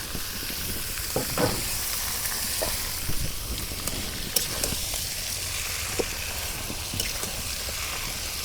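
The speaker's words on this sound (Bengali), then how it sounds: "এখন আমি মাংস যে মাখাইয়া ঢাইকা রাখছিলাম এখন দিয়ে দিই।" Marinated beef added to browned onions for Bangladeshi beef bhuna, a moderate, steady sizzle with occasional clicks and stirring knocks, no voices.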